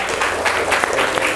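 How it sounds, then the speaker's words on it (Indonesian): A short burst of steady applause from a classroom of students during a civics open class, dense and fairly close, with faint voices under it. "ya, tepuk tangan untuk kita semua ya."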